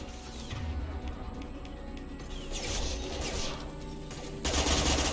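Rapid submachine gun fire in Mass Effect 2, dense rattling bursts with mechanical clatter and sharp impacts, loud and sustained throughout, ending in a heavier crash.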